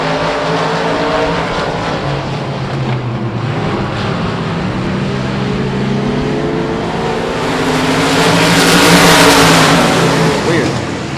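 A dirt track race car engine roars loudly and close during a South Texas Shootout race, the pitch rising and falling as the driver gets back on the throttle, with a race announcer talking over it.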